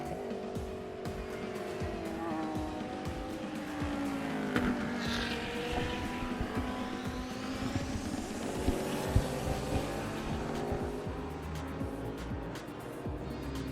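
GT race cars lap Sepang International Circuit in Malaysia, several engines droning and rising and falling in pitch as they pass, with a brief tyre squeal and a steady blanket of track noise throughout.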